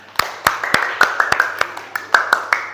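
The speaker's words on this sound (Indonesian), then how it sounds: "Oke, tepuk tangan." Students in a classroom clapping in a rhythmic pattern, about a dozen sharp, evenly spaced claps over a few seconds, close and fairly loud, with voices calling out between them.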